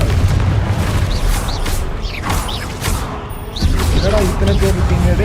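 A blast from the Confringo spell in the Hogwarts Legacy video game lands among other combat effects: sharp booming impacts and whooshing mechanical crashes with a creaky, metallic edge, over a busy game soundtrack.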